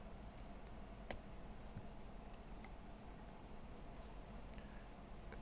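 Quiet computer keyboard typing, with scattered light key clicks over a faint steady background hum and no talking.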